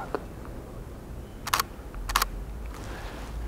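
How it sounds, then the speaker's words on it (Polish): Nikon Z50 mirrorless camera firing its mechanical shutter, two crisp double-clack shots about half a second apart, close and clear over faint room hiss. "Z migawką mechaniczną hałasuje tak."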